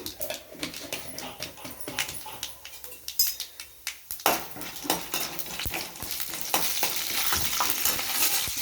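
Chana dal and a bay leaf crackle and spit in hot tempering oil while a spoon scrapes and stirs the pan in repeated strokes, close and moderately loud, with a brief dog-like whimper in the background.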